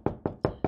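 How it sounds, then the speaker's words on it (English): Four evenly spaced, solid knocks on a wooden door in a children's Three Little Pigs finger puppet story, close and crisp, heard alone. "And so the wolf went to the house made of straw and knocked at the door."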